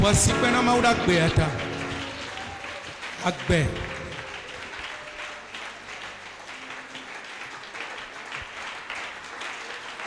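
A church congregation claps and cheers in praise of God, a dense wash of applause under singing and voices that fades a little toward a steady crowd murmur.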